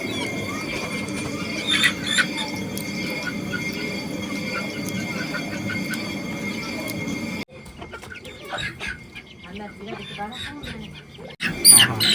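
Thin high chick peeps recur over a steady hum of background noise, with a few louder chirps near the end and voices in the background.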